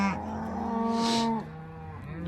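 A single cow bellows a long, low moo lasting over a second while cattle are separated for vaccination, close and loud with a rising then falling tone.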